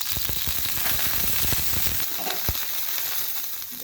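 Onions frying in oil in a pan for beetroot chutney, a steady close sizzle with scattered crackles that settles down toward the end.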